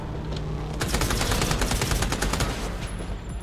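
Rapid automatic rifle fire in the video game Redeemer, loud dense bursts of close gunshots rattling continuously with no talk over it.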